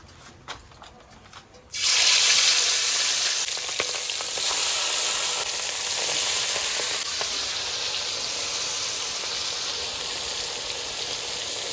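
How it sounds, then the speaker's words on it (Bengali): Quiet kitchen background, then a sudden loud sizzle as marinated hilsa fish hits hot oil, continuing as a steady crackling fry. "তেল গরম হয়ে গেছে, এবার আমি ম্যারিনেট করা মাছ দিয়ে দেবো এক এক করে"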